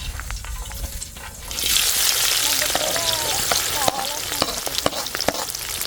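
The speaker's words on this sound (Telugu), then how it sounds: "ఇప్పుడు చికెన్ ఫ్రై చేస్తున్నాం" Chicken fry sizzles in a pan at an outdoor garden meal. A loud, steady hiss rises after a quiet start, with scraping stir clicks scattered through it and a voice faintly underneath.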